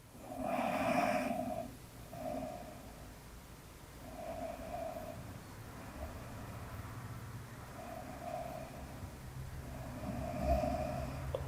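Slow, deep breaths during a beginner yoga class come in a few soft, spaced inhales and exhales, close and quiet, with a slightly nasal, snore-like texture and no talking.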